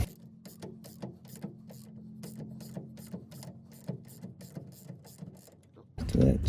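Wrench and ratchet loosening a rear shock absorber bolt on a rear-wheel-drive Ford Ranger, a rapid series of sharp clicks over a low hum, close, ending in a louder clatter.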